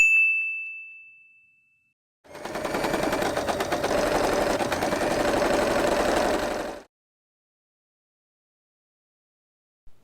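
A sewing machine stitches tote bag handles with interfacing inside, running in one steady, fast, close mechanical burst for about four seconds after a fading ding, then stopping into silence.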